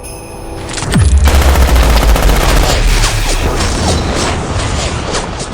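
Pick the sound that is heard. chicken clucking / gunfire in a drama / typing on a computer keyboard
gunfire in a drama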